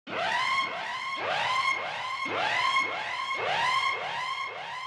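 A synthesized siren, pitched up an octave and sped up in a DOOM-style soundtrack made in FL Studio, repeats as rapid rising wails in a loud, continuous loop.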